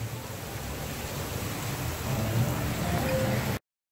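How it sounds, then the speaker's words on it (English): Steady rain falls outdoors on a rainy day in Los Angeles, a dense broadband hiss of drops on surfaces that holds fairly constant, swells slightly near the end, then cuts off abruptly. "Got too rainy."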